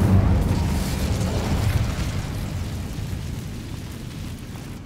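The Incendio fire spell goes off in Hogwarts Legacy on an Xbox Series X with a loud, deep, rumbling blast at the very start. The boom then fades slowly into a long, dull roar.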